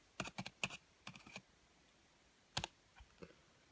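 Typing on a computer keyboard: a few quick bursts of crisp key clicks, clustered in short rapid runs with pauses between, close and quiet with no talk.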